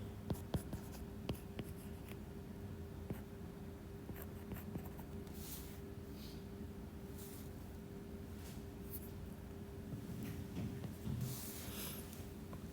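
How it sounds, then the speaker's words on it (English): Chalk or marker taps and scratches on a board as lecture notes are written out in a polymer chemistry class, faint and intermittent over a steady room hum. "Let me write it down here."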